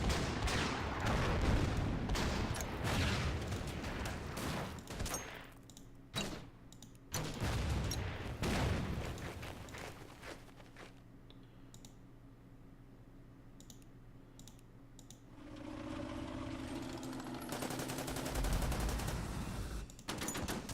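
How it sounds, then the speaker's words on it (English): Artillery fire in the WW2 strategy game Order of Battle WW2, with dense bursts of booming shots and clicks at first, then scattered lighter clicks and hum, followed by a rising rumble toward the end. "let's see if we can get the artillery to keep going."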